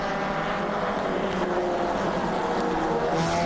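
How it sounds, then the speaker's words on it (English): Race cars battling closely on a track, a dense, continuous engine roar with overlapping whining tones from several cars, loud and unbroken with no talk. "Pretty tight racing here."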